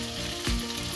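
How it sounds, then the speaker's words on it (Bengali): Oil poured into a hot wok after frying cauliflower and potatoes, with a steady broadband sizzle and a brief low thump of the pour near the middle, close and moderately loud. "কড়াইতে এখন ঢেলে দিচ্ছি তেল।"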